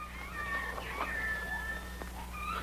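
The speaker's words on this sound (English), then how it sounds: "That's just a little baby lion." A small lion cub gives thin, high mewing cries, several short wavering whines over a steady low hum on an old 1949 film soundtrack.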